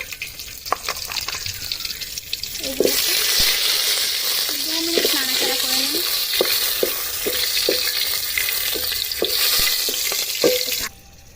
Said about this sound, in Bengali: তেলের মধ্যে পাঁচ ফোড়ন দিয়ে দেবো তেজপাতা দিয়ে দিচ্ছে কাঁচা লঙ্কা দিয়ে দিচ্ছে